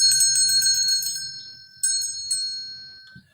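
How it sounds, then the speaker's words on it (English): A small hand bell rung to cleanse and ward a room, a rapid run of bright metallic strikes followed by single rings that leave a clear sustained tone decaying into quiet. "You can use a bell"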